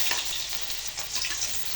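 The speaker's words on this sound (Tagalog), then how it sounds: "Bawang, sibuyas, luya. Ayan, gagawa na tayo. Gisa natin yan siya." Garlic, onion and ginger sauté in a pan for bopis, giving a dense, continuous, close sizzle with faint stirring movement and no pauses.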